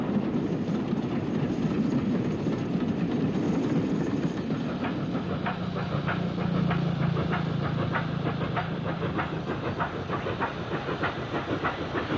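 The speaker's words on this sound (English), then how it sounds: "a Black 5 pulls a westbound parcels train uphill" A steady rumbling Black 5 steam locomotive pulls a parcels train uphill, with rhythmic chuffing and clanking wheels, hissing throughout, continuous and fairly loud, no voices.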